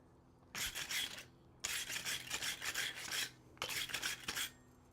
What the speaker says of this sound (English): Basically polishing the metal with this.